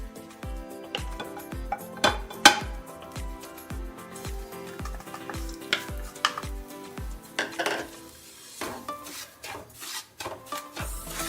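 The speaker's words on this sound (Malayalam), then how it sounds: "നെയ്യ് ചൂടായി കഴിയുമ്പോൾ നമുക്ക് റവ ഇതിലൊന്നിട്ട് വറുക്കണം." Semolina stirred and roasted in ghee in a frying pan while making gulab jamun, with a steady run of close scraping and stirring clatters against the pan over a faint sizzle, heavier at first and then looser and scratchier.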